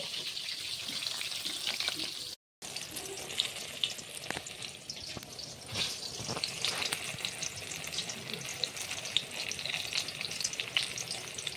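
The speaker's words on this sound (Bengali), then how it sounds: "একে একে বেগুনগুলোকে আমি ভেজে নেব।" Eggplant slices coated in salt and turmeric fry in hot oil, a steady bubbling sizzle with crackles and pops, broken once by a brief silence, close up and without speech.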